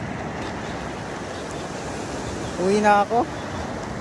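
Sea waves breaking at a fishing spot, a steady wash of surf noise with wind that runs through the whole moment, while someone speaks briefly near the end.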